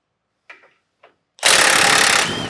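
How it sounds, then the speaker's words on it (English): An impact gun fitted with a 15mm socket removes the tow hooks from a 2024 Ford F-150, a loud sustained buzzing rattle close by that follows two faint clicks. "Now with the 15mm socket on both sides, we'll go ahead and remove our hooks and get those out of the way."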